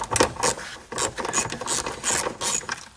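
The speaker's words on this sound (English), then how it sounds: "we need now this 8 millimeter socket, standard socket. And I open these bolts" Ratchet wrench with an 8 mm standard socket loosening seat belt support frame bolts in a BMW 3 Series, giving a steady series of close, rapid ratcheting clicks in repeated bursts with no talk.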